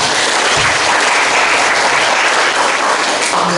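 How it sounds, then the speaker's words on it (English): Loud, dense audience applause for a dance teacher after a school performance in Indonesia, close and continuous throughout. "Could we give her a round of applause?"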